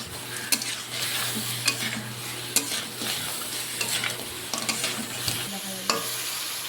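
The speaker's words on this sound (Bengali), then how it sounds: "আলু আর কাঁকড়াগুলো মশলার সাথে ছেড়ে দেব কাঁকড়ার আলুটা এবারে মশলার সাথে ভালো করে আর একটু কষিয়ে নেব" Crab and fried potatoes sauté in spices in a pan with a loud, continuous sizzle close by, broken by repeated stirring scrapes at a steady pace.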